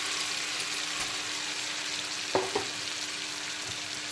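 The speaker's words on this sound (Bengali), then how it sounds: "আলুগুলোকে এই কষানো মশলার সঙ্গে আবারও বেশ কিছুক্ষণ কষিয়ে নেব" Fried potatoes stirred into a sizzling spice paste for a potato and kajli fish curry: a steady close frying hiss throughout, with two quick spoon scrapes and clicks near the middle.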